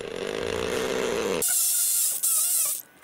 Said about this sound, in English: I don't believe this drill bit was actually made to work with this type of drill